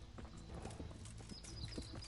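Horse hooves clip-clop steadily in Kingdom Come: Deliverance, close and continuous, with a brief whinny breaking through near the end.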